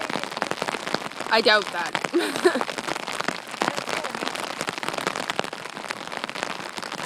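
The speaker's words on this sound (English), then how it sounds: "Vlogging in the rain." Steady rain patters on surfaces outdoors, a dense continuous hiss with sharper drop hits, while a person talks briefly near the mic partway through.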